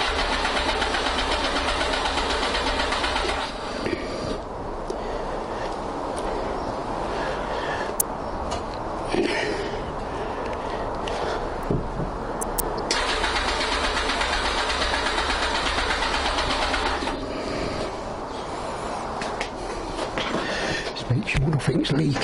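Yamaha XJ900S motorcycle engine being started with the choke out, then running steadily at a loud, close idle with a constant rumble and occasional brief mechanical clicks.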